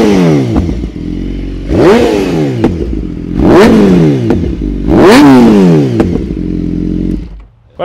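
A BMW S1000RR sport bike engine is blipped hard in three sharp revs, each rising to a loud shriek and falling back to a rough idle, close to the microphone with no talking.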